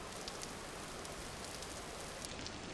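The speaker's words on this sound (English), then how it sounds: "Don't tell me we're getting more rain." Steady rain falls in the survival game Vintage Story, an even, hissing wash of drops that holds at a constant level across the whole clip with no voices.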